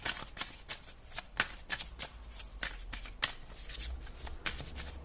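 Tarot cards are shuffled by hand during a horoscope card reading, a close series of crisp riffling snaps and flutters coming in quick irregular bursts with no voice over them.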